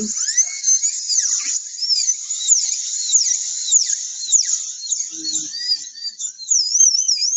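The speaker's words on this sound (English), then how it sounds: "This drill may make a loud noise." A high-speed dental drill handpiece whines steadily while drilling plastic practice teeth, its shrill pitch wavering and dipping as it bites, close and continuous with no talk.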